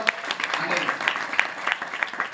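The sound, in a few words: audience applause welcoming a guest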